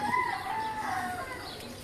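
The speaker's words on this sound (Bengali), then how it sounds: "মুরগি দেখতেছি, কবুতর দেখতেছি" Chickens kept on a rooftop with pigeons give a brief clucking, crowing call, a short rising and falling fowl vocalization, close and moderately loud, with no speech.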